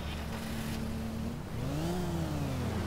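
The 1995 Audi RS2 Avant engine in the City Car Driving game hums steadily, then revs up and settles with a rising and falling whine, heard up close and continuous.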